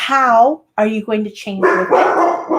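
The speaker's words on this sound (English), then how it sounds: "that was my dog walking underneath the camera" A dog barks several times up close indoors, short sharp barks with a brief whine, mixed in with someone talking at the same time.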